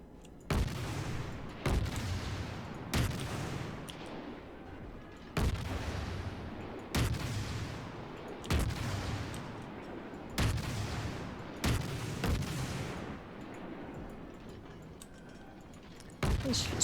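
Heavy naval gun salvos from the Soviet cruiser Krasny Krym in World of Warships, booming roughly every second or two across the stretch, loud and close, with a rumbling battle ambience between shots.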